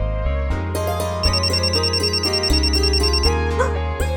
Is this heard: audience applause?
no